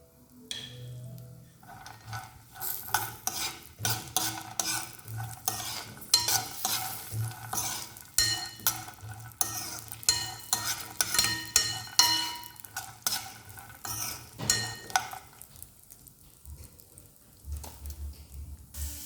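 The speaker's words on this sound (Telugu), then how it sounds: "గీ అయితే వేడైపోయింది కాబట్టి మనం కట్ చేసుకొని పెట్టుకున్న బాదం అయితే దీంట్లో వేసుకొని ఫ్రై అయితే చేసుకుందాం." Chopped almonds sizzle in hot ghee in a pan while a spoon stirs them steadily. The sharp scrapes and clinks sound close and frequent over a constant frying hiss, and no one speaks.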